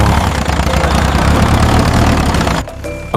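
A cartoon tractor's engine rumbles loudly and steadily as it crawls over a shaky wooden bridge, then cuts off abruptly near the end, leaving a faint tail.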